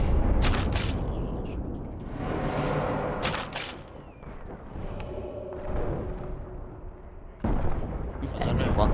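Tank cannon fire and heavy explosions in Sniper Elite 4, several booming blasts and rumbling impacts in a battle scene, with voices talking over the noise.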